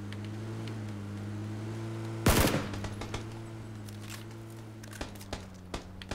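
Gunfire in the battle-royale game PUBG on Xbox One: a loud close burst of shots lands mid-clip over a steady low engine-like drone, followed by scattered sharper single cracks trailing off.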